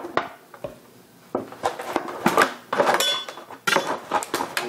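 Olive-oil-and-rub-seasoned potatoes tossed in a dish for roasting, an irregular run of close clinks, scrapes and knocks against the dish that grows busier toward the end, with no talking.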